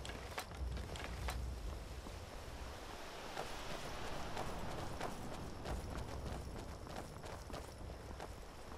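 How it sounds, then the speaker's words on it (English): Horse hooves clip-clopping in the video game Skyrim, a steady irregular stream of hoofbeats over a windy outdoor background with no talk. "Whose horse is this?"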